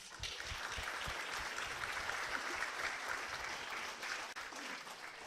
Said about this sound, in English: Let's give a round of applause for all 3 of our judges.